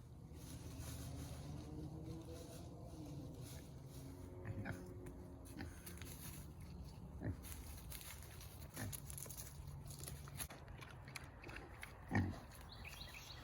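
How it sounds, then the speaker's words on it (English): Pigs grunt softly and snuffle while feeding, with scattered squeals and a low rumbling drone underneath; quiet and close, with occasional louder snorts. "Pigs doing what they do best."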